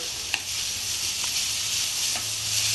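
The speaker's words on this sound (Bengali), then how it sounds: "আলু ভাজাটা জিরা আর আদা দিয়ে খুব ভালো লাগে" Potatoes with cumin frying in a pan give a constant loud, close sizzle, broken by a few light spatula knocks and stirring scrapes, with no one speaking.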